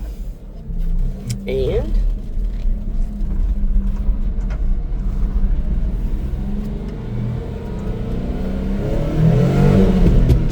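A Suzuki motorcycle engine revs and pulls through first gear on a rock bed, a steady close engine drone rising toward the end with a brief voice under it.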